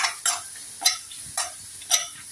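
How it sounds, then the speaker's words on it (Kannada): Tomatoes and green chillies are stirred in a pan: four evenly spaced spatula scrapes over a quiet background. "ಟೊಮೆಟೊ ಫ್ರೈ ಆಗಿದೆ."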